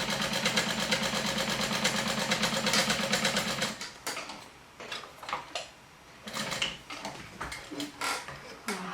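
A sewing machine top stitches a bag seam with a fast, steady mechanical chatter for about four seconds, close and loud, then stops, leaving quieter handling clicks and rustles of fabric.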